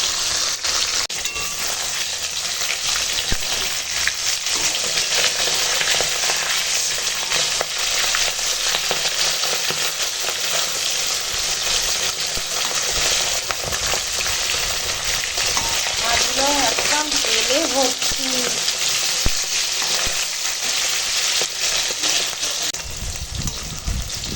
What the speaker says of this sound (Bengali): নুন হলুদ মাখানো হয়ে গেছে এখন মাছ ভেজে নেব